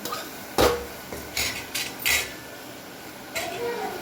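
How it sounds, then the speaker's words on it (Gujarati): Ingredients stirred in hot oil in a pan over a full gas flame, with several distinct metallic scrapes and clanks of a utensil against the pan over a low sizzle, close and without talk. "પહેલાં તેલમાં મિક્સ કરી લઈએ."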